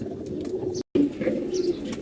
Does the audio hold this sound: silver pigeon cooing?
yes